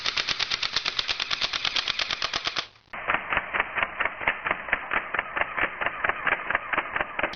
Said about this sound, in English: this is the shooting test for the CYMA Airsoft gun